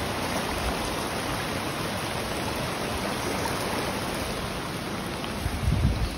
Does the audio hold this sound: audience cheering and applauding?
no